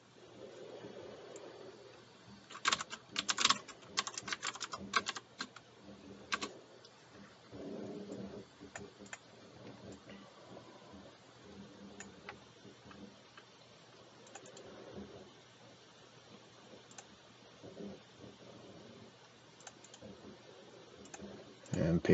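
Keys clicking on a computer keyboard as a password is typed, in short bursts of quick taps, loudest early on, over a low background rumble and hiss.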